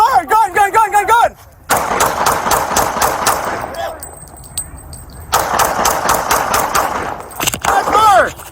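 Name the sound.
gunshots during a police shootout in a parking lot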